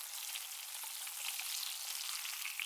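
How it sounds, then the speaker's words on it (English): Fish fries in a pan with a steady, close, bright sizzle and crackle that holds even throughout, with no voices. "either swear it or fry it like this"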